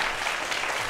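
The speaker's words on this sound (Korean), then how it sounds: "여러분 큰 박수 부탁드리겠습니다" Audience applause at the close of a science lecture, a steady dense wash of clapping with no gaps, fairly loud and filling the whole short moment.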